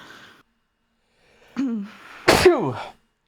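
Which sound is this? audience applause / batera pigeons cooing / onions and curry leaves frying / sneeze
sneeze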